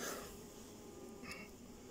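Honey bees buzz faintly around an open top bar hive during a late-summer inspection, a soft, steady hum that stays low and continuous throughout.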